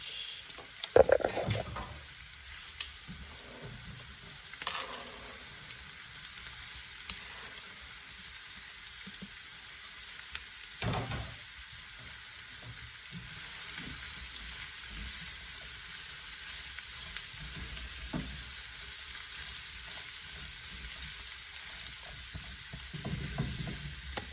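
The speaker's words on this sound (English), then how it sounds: "Then the last thing going in is my cabbage." Cabbage and other vegetables frying in a pan, a soft continuous sizzle broken by occasional scraping stirs and clacks, close and fairly quiet with no talk.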